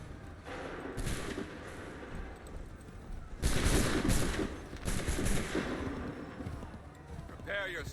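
Musket volleys crack out in Assassin's Creed 3, with a few scattered shots and then a loud dense volley mid-clip followed by another burst. Shouted commands and battle noise continue around the gunfire.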